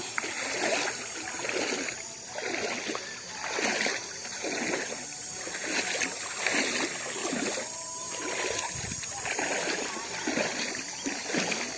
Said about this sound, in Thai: ดูครับน้ำใสไหลเย็นเห็นตัวปลาครับ